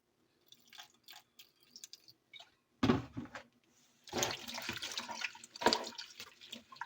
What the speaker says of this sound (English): I'm going to wash it off again.